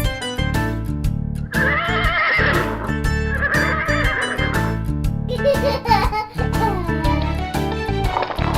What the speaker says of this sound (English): Wow! Horse.